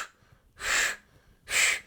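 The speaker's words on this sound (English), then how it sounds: "I do different things like sequential breathing" A person demonstrates a sequential breathing exercise used for asthma, with two strong, rhythmic breaths spaced about a second apart, close and clear with no talk.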